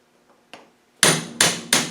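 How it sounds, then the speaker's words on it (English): Metal-on-metal tapping with a chisel to seat an oil pump part on a 2.25 engine: two faint light taps, then three loud, evenly spaced ringing strikes, close and alone. "I think I must have tapped it on with a chisel"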